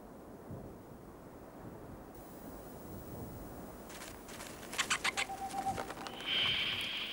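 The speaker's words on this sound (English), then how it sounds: "Tengmalm's owl, up in a tree hole," A Tengmalm's owl calls from a tree hole in the northern forest, giving a quick series of soft hoots over faint forest background, fairly distant and with no talking.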